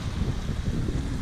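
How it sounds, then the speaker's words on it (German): Steady wind roars and buffets the microphone at the Adriatic waterside, a dense low rumble that stays constant with no voices. "Ja, leider heute ein bisschen windig,"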